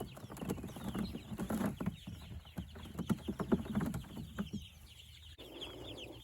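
Rainbow Ranger meat chickens cluck and chatter close by in their pen, a busy run of short overlapping calls with a brief quieter pause near the end.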